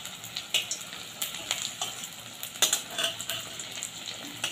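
Sabudana (sago) pakoras sizzle and crackle as they fry in hot oil, a steady broadband frying hiss with sharp pops and bursts as each fritter goes in, close and fairly loud, with no talking.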